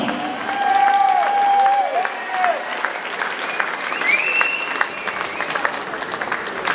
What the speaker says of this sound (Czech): ale potlesk si zaslouží také Josef Pepe Zelebák